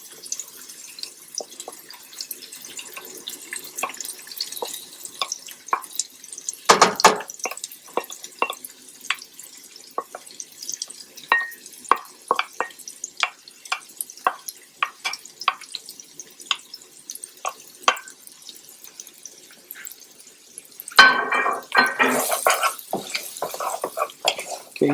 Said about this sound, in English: you just want to saute these until everything becomes fragrant